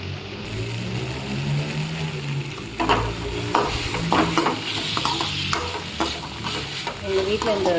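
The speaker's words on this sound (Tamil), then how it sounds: "இந்த டைமில் நம்ம வந்துட்டு கட் பண்ணி வச்சுருக்க அந்த வெஜிடபிள்ஸ்லாம் போடலாம்." Cut vegetables sizzle and fry in a pan for a vegetable kuruma, with a spoon stirring and scraping through them in repeated close strokes over a steady hiss.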